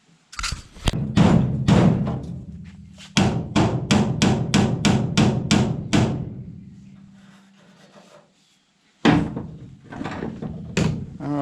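Loud, fast metallic hammer blows on a rusty OBS pickup truck bed ring out in long rapid bursts, pausing briefly between runs, close by with a sharp clanging quality.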